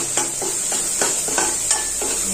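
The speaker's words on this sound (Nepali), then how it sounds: "तेजपात पनि फ्राई गर्दैछु" Bay leaves frying in hot oil in a pan for a Nepali chana dish, a steady close sizzle with regular stirring scrapes about every half second.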